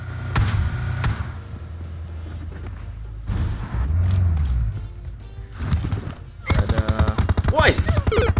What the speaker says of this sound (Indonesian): Ada nembakin.